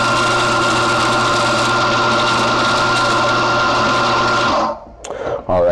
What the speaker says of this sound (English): Also listen to the sound of the grinder.